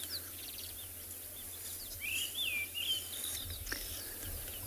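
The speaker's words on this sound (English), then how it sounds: "I think it's actually the white-browed scrub robin again." A white-browed scrub robin gives short warbling phrases, fairly faint and distant, over a soft hiss of outdoor ambience at sunrise on safari.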